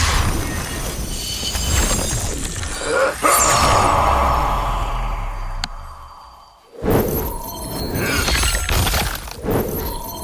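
Glass-shattering effects from Sub-Zero's sequence in Mortal Kombat 11, loud crashing, crackling shards layered with icy whooshes and a sharp cut to near silence midway before another dense burst of breaking texture.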